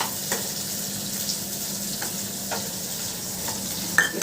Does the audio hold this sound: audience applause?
no